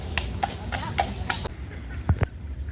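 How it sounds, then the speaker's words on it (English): Horse's hooves on a New York City street, a few distinct clip-clops spaced out at a walking pace, moderately close, over street background noise. "Ooh, horse."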